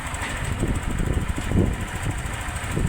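Yamaha NMAX V3 scooter engine running close by after a top overhaul, a steady low idle rumble with a faint fan-like whir, heard alone without talk.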